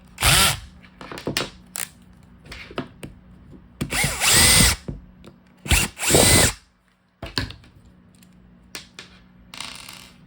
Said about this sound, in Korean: 자, 이제 나사 두 개 제거, 제거 하겠습니다.